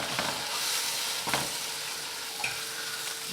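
Food for a breakfast sandwich sizzles and fries in a pan, a steady close hiss with a few brief clinks, and no voices.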